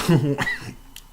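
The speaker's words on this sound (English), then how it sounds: "I'm still battling a cough" A single short cough, close and fairly soft, with a little voice sound around it.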